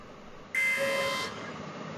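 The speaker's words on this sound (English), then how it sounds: "Timer." A classroom countdown timer sounds its end alert, one loud electronic buzzer-like tone lasting under a second over a faint background hum, with no voices.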